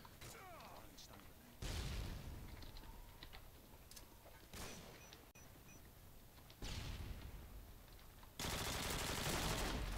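Gunfire in the video game Modern Warfare 2 rattles in dense automatic bursts that start and stop in blocks, loud and close, with keyboard clatter and someone talking over it.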